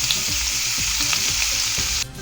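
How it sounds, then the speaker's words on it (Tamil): Two large chopped onions dropped into melted butter for butter chicken, sizzling loudly and continuously up close, with a few faint stirring knocks beneath the hiss before it cuts off. "இப்போ ஒரு 2 பெரிய வெங்காயம் பொடியாக கட் பண்ணது சேர்த்துக்கிறேன்."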